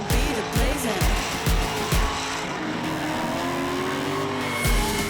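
A stock-powered Lexus IS300 drifts at a drift event, its engine revving hard in repeated bursts over loud, sustained tire squeal and skidding close by.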